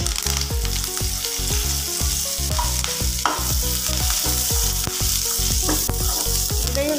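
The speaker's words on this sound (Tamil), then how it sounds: "சலசலந்து வர்றது மாதிரி வறுத்து எடுத்துக்கலாம்." Curry leaves dry-roast loudly in a pan for garlic idli podi, a dense crackling sizzle with rhythmic scraping strokes of a stirring spoon repeating steadily throughout, close up and with no talk.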